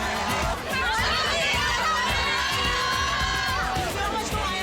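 Young people in the Middle East cheer and shout for Korea's football win, a dense, loud roar of voices with rising whoops and chants that holds nearly unbroken for several seconds.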